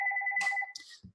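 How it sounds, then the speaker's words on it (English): An office telephone rings with a bright electronic warble, a rapid repeating tone pulsing close by, followed by a short clatter as the ringing stops. "Sorry about my office phone ringing."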